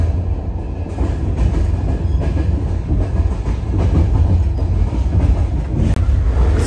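An old train rattles along the rails between Lviv and Kyiv, with a steady, loud rumble, a rhythmic clatter of wheels and carriage noise heard from inside the car, and no talking.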